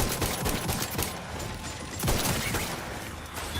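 Rapid bursts of gunfire ring out in an Obsidian video game, dense automatic shots in quick succession, loud and continuous with brief dips between volleys.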